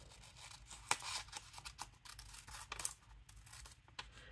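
Scissors snip through craft material in quick, faint close-up cuts, a string of small crisp clicks and rustles with no talking.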